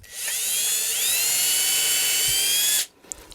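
An electric drill spins up and runs at a steady, piercing whine while drilling a pilot hole in a Telecaster guitar body, stopping sharply after nearly three seconds.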